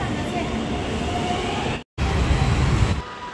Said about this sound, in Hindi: तो अभी हम जा रहे हैं मेट्रो में